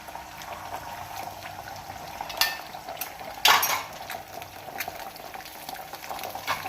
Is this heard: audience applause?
no